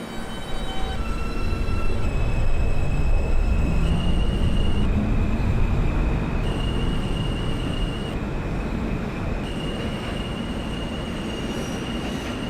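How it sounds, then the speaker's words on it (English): An R160 New York subway train on a J local run in the OpenBVE simulator game rumbles along steadily, with loud continuous wheel and motor roar and sustained whining tones that shift pitch in steps. "This is a Broad Street bound J local train."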